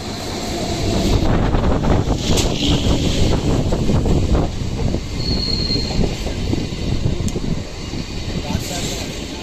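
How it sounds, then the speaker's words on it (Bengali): A train rolls into a station with loud, close rumbling, clattering wheels and squealing metal that ease toward the end, while people talk nearby. "ট্রেন মোটামুটি ওই 10টা 50-এ ঢুকবে হয়তো"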